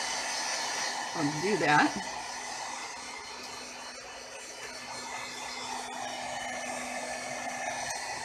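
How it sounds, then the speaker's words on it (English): A heat gun blows steadily to dry glue on a craft project, a continuous airy whir throughout, with a brief spoken remark near the start. "I know I have the heat gun going"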